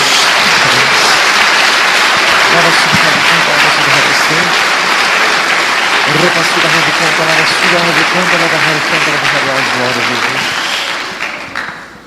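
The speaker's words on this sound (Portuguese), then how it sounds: "Dê uma salva de palmas a Jesus." Loud, sustained applause from a church congregation fills the hall for about ten seconds, with voices calling out beneath it, then tapering off at the end.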